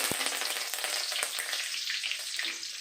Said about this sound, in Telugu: ఆయిల్ హీట్ ఎక్కిన తర్వాత కొద్దిగా పోపు దినుసులండి కొద్దిగా కరివేపాకు